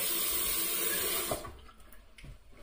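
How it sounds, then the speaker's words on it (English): Cold tap water runs steadily into a sink as a face is rinsed after shaving with a Wilkinson Sword razor, a loud continuous rush that stops abruptly partway through, leaving faint splashes and drips. "I'm going to rinse off with cold now."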